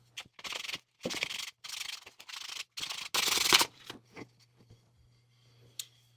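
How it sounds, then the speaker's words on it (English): Sandpaper rubbing by hand on a small wooden sock monkey craft, five or six short, close scratchy strokes in a steady rhythm, then a few faint scrapes and quiet pauses. "Now I'm just going to take some sandpaper and smooth it all the way down."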